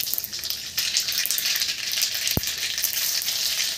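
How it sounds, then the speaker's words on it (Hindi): Cumin and mustard seeds sizzle in hot mustard oil in a kadai, a steady loud crackling hiss throughout with one sharp pop partway through. "तेल अच्छी तरह गर्म हो जाए तो उसमें जीरा और सरसों डालना है।"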